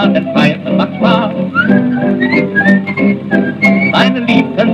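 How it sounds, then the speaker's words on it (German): A person whistles a lilting melody on an old 78 rpm dance record, backed by the band, the whistling close and prominent throughout. "denn pfeifen macht Spaß"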